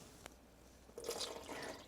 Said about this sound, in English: We're gonna add the water into the sourdough starter.